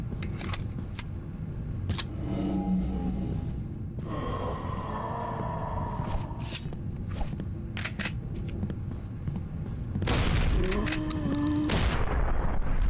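Gunfire in the video game Deathbloom, scattered sharp shots spread across the stretch with a heavier burst of firing near the end, amid background game sounds.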